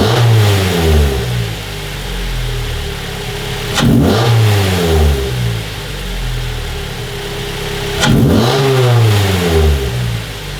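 A Mazda Miata NC fitted with an AEM cold air intake revs hard twice, each sharp climb in pitch falling back to a steady idle hum between bursts, loud and close with no talking.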